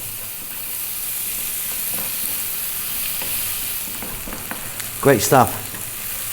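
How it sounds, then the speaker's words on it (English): Beef with dried thyme sizzles in a pan over medium heat while being stirred almost constantly. A steady hiss carries soft scraping strokes, and someone speaks briefly near the end. "We're stirring pretty much all the time at the moment now"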